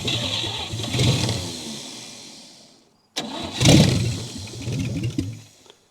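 A 1959 Chevy Biscayne with a leaking carburetor is cranked twice after sitting a long time. Each attempt brings a close, rough engine catch and a brief rumbling run that fades away, with a short silent pause between the two tries.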